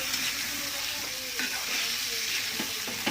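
Chicken meat sautéed with spices in a pan, a continuous wet sizzle and crackle with occasional scraping stirs and clinks, close up under steady frying noise.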